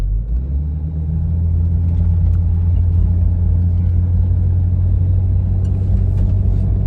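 A Jeep engine pulls uphill in first gear with a loud, steady, low droning rumble, close and continuous throughout, under a thick layer of road and drivetrain noise without any talking.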